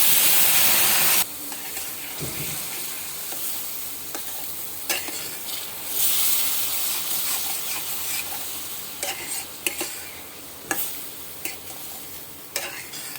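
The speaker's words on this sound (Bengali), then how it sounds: "হলুদ গুঁড়ো, লঙ্কার গুঁড়ো, ধনে গুঁড়ো, কাশ্মীরি লঙ্কার গুঁড়ো, একটু জল দিয়ে কষিয়ে নিচ্ছি।" Turmeric, chili, coriander and Kashmiri chili powders are sautéed with a little water for soya ghugni. A close, hissing sizzle is broken by scraping stirs and sharp bursts as the pan is worked.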